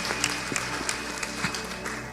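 An audience at a church gathering applauds, a dense, steady patter of clapping hands filling the whole moment with sharper claps popping out at intervals.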